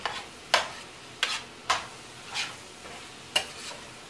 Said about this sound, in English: Give that a turn and a toss and a flip and a stir.